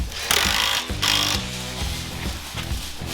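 A power tool bolts down a roll cage on a rat rod wrecker, giving two loud, close bursts of whirring and rattling, each about half a second long, followed by lower mechanical humming and clunks.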